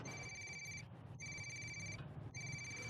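A mobile phone ringtone plays in repeated bursts, three electronic tone phrases separated by short gaps, faint over a low background hum.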